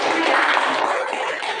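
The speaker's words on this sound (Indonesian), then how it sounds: "tepuk tangan untuk kelompok" Classmates applaud a student group in a classroom lesson with a brief, dense burst of clapping that stays loud and even throughout.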